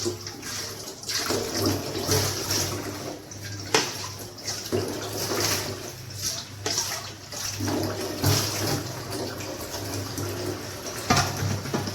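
Water runs from a tap as it is collected for making breakfast, a continuous splashing gush with irregular surges and a faint low hum beneath.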